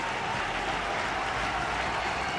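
Cricket crowd applauding at Sharjah stadium during a 1996 one-day international: dense, continuous clapping and crowd noise from a large audience, loud and unbroken throughout, with no clear speech.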